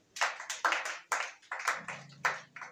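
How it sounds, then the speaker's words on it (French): Church congregation at a worship service clapping in bursts, with uneven rhythmic claps and a few hands tapping along. "Acclamez Jésus là-bas."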